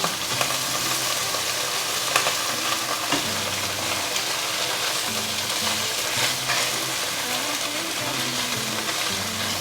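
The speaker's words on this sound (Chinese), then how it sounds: "现在再把另一面的豆腐煎上色。" Tofu slices pan-frying on their second side, giving a steady, close, loud sizzle and crackle that runs unbroken throughout, with no voices.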